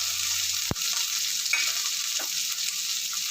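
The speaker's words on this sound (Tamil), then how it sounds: "பச்சை மிளகாய் கருவேப்பிலை போட்டுருங்க." Green chillies and curry leaves hitting hot frying oil, a steady bright sizzle throughout with a sharp clack of a utensil near the start and faint stirring sounds, no voices.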